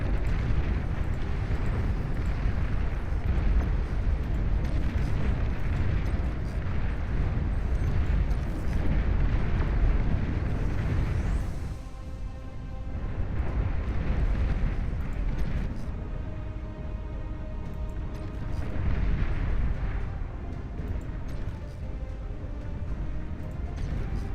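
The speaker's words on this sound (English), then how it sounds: "I think the cluster bomb exploded inside of the thing, so it did way more damage than I think it was supposed to" A cluster bomb exploding in the strategy game Beyond All Reason, heavy continuous rumbling blasts amid battle noise, dipping briefly then swelling again.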